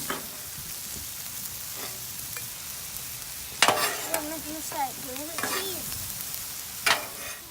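Cheesesteak beef frying with Worcestershire sauce, stirred in a hot pan, with a steady sizzle broken by scraping stir strokes and a few sharper clatters.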